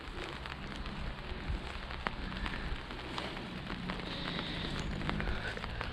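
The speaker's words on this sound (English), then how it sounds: "Let's take a little stroll in the rain" Steady rain falls during a stroll along a river near a bridge, a continuous close hiss with irregular drips and taps, fairly loud and without talk.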